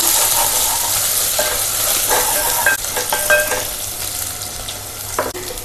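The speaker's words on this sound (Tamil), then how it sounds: "மிளகாய் தூளையும் எண்ணெயில் நல்லா வதக்கிடலாம்" Chili powder sautéing in hot oil for prawn vermicelli biryani, a loud continuous sizzle with a spoon stirring and scraping the pan in irregular strokes, close up and without speech.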